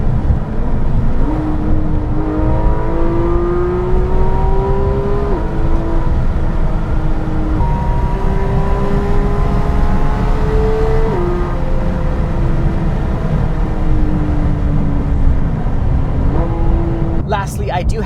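A 991.1 Porsche 911 GT3 sports car engine revs loud and close, rising through gears in several long climbing pulls with short drops between shifts, while a voice talks over it.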